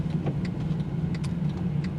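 Traffic on a freshly paved downtown street in Benton on a Wednesday night, with a steady engine hum and faint ticking from passing or idling cars, heard close and continuous.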